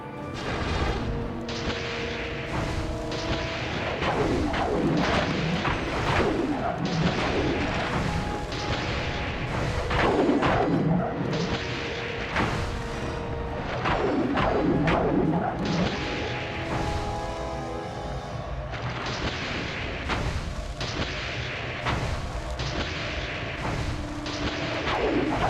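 Spyro unleashes Earth bomb attacks in The Legend of Spyro: A New Beginning, setting off a long series of booming, crashing explosions in irregular bursts, loud and close, with game music and effects layered beneath.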